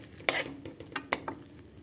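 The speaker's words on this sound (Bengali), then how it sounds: "এখন একটু নেড়ে দিব ভালো করে।" Tomato chutney being stirred in a pan, a few quiet scraping strokes of a spoon against the metal with soft sizzling underneath.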